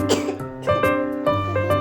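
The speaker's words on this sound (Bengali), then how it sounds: "মরিচ ভাঙ্গাতে আমাদের কাশি চলে আসছে, মা মেয়ের" Mother and daughter cough in several short, close bursts, caught by chili fumes while grinding hot chilies with salt for a spicy bharta.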